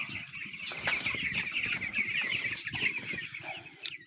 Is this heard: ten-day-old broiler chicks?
yes